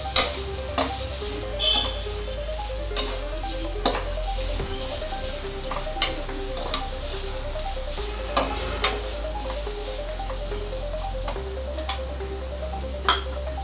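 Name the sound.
capsicum and onion stir-frying in a pan for kabab chilli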